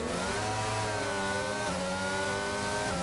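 Formula race car engine in a racing video game at the Singapore circuit, a loud continuous high-pitched whine with gear-shift pitch drops, heard alone; the wheel lockup screech is not distinct.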